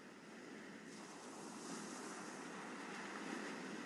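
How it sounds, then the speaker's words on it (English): Gentle ocean waves lap steadily on a shore, a continuous broad wash of surf with soft swells, moderately loud and unbroken, with no voices. "Like gentle tides lapping in, back to the sea, and back out and up onto the shore."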